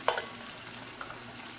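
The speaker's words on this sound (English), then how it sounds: "It's sizzling." Puff pastry baklava sizzles softly in a pan, a faint continuous crackle with a sharper pop at the start and light stirring noises.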